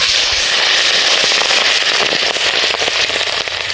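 Fish frying in hot mustard oil, a loud, dense crackle and spatter close by that runs without a break.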